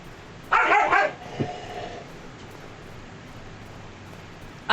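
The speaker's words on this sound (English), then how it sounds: "I do have 3 Dalmatian puppies right now that have all decided to play." Dalmatian puppies at play let out a short burst of near, loud barking and yipping, followed by a fainter yelp and quiet background, with one more sharp bark at the end.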